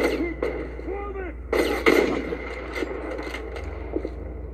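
Gunfire in the video game Wolfenstein: a few sharp, loud shots in quick succession against a steady low rumble, with a voice talking between the bursts.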